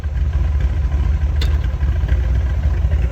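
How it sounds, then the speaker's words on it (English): A custom 1968 Corvette idles with an aggressive cam, giving a loud, close, steady low rumble with a slightly uneven pulsing throb throughout and no talking. "I mean, listen to this car."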